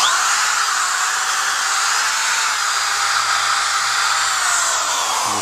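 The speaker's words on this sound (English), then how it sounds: "so I went ahead and switched my sanding pad, and just gonna throw that one away. And I'm gonna keep on sanding." A power sanding disc runs on a headlight lens with a continuous, loud, high-pitched whir and no breaks.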